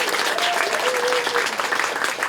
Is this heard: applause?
yes